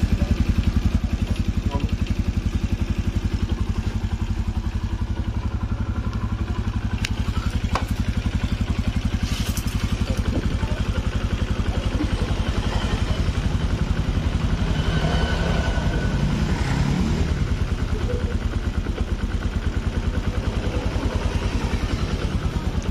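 A Yamaha Jupiter MX motorcycle engine runs steadily after a fresh rebore and new cylinder head, a loud, close, continuous rattling idle with faint clicks on top.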